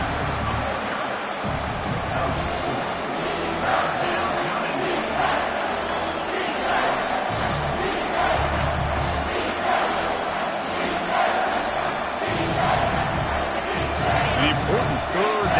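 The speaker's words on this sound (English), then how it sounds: "here comes the noise. This crowd is trying to inspire this defense to make a big red zone stop." A college football stadium crowd roars steadily during a red zone defensive stand, a dense, loud wash of cheering and noise throughout, with a commentator talking over it.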